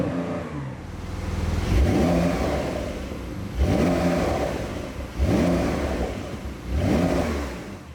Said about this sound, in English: and then we give it some revs,